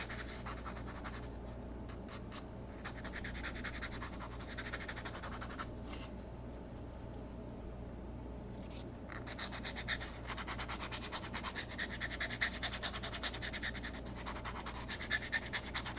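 Repeated rasping strokes of 180-grit sandpaper scraping across a hard plastic scale-model part's edge, in quick rhythmic bursts with brief pauses, close up over a low background hum.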